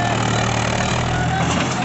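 A Mahindra 265 DI tractor engine pulls a fully loaded trolley with a loud, steady low drone and no break in the run.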